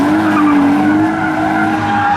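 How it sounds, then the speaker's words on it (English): A BMW E30 with individual throttle bodies drifting on a track, tires skidding in a long continuous squeal over steady engine roar, loud and close for the whole stretch. "That was a drift. There was a drift."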